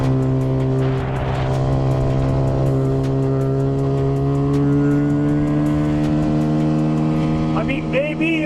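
A Walmart 250cc EFI dirt bike engine revs steadily and loudly near its rev limiter, strong harmonic drone holding for several seconds with slight pitch shifts; a voice talks briefly underneath.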